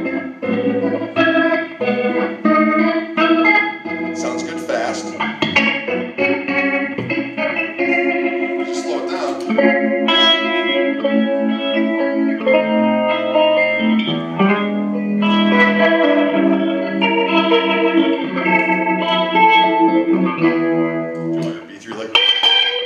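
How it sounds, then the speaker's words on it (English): Electric guitar runs through a Neo Instruments Ventilator rotary speaker pedal at a guitar show clinic, playing a busy, continuous run of chords and single notes with a swirling, slightly overdriven tone, loud and close. "this pedal is, it's called the Neo Instruments Ventilator."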